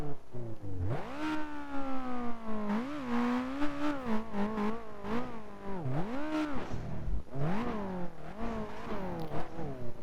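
In the BeamNG.Drive game, a Mitsubishi Evo rally car's engine revs up and down continuously, its tone rising and dipping with throttle changes and gear shifts, loud and close with a slightly odd, synthetic character.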